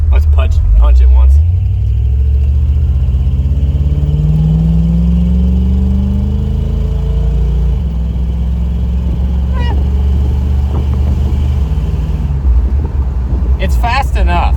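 A Buick convertible's engine revs up and accelerates, a loud, steady rising drone that holds under the wind and road noise, with people talking over it.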